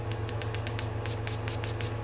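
A rapid series of short, hissing bursts of makeup setting spray, about a dozen in quick rhythm, close and fairly loud over a steady low hum.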